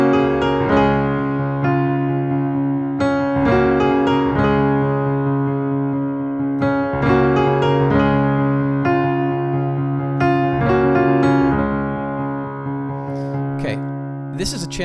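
A piano plays the left-hand part of a piece alone. Bright, sustained notes ring out in a steady repeating pattern of rapid pulses and held bass tones, loud and clear, with no voice over it.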